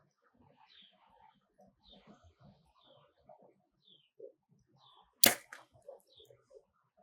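A bow shot released with a trigger release gives one sharp, close snap amid quiet outdoor surroundings where birds call faintly before and after.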